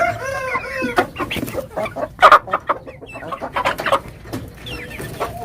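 Hens cluck and chatter close by in a busy, overlapping stream, with a few louder squawks standing out, in a backyard flock of fighting-breed chickens kept abroad.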